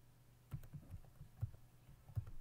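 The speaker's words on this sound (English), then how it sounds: "So in the console, if you're typing password, it's not show for you." Password being typed on a computer keyboard while setting up a Django project: soft, irregular key clicks tapping along at a moderate pace, quiet and close, with no talking.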